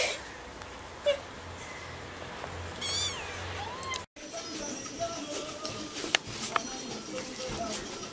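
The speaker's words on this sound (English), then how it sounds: "It's a cute kitty. Oh, oh there it's making noises." A small kitten meowing close by in short, thin, high cries, a few scattered calls over a quiet background, with people chatting softly around it.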